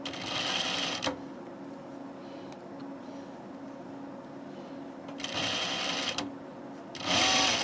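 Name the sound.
sewing machine stitching shirt fabric edges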